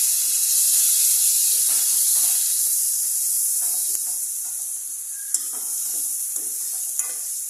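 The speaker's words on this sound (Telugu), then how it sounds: "అల్లం పేస్ట్ ఏంటి పచ్చివాసన పోయేంత వరకు వేపేసుకుందాము సిమ్లో పెట్టేసి." Ginger paste frying in a pan for an octopus curry gives a steady, bright hiss and sizzle throughout, with small pops and soft stirring scrapes close by and no talking.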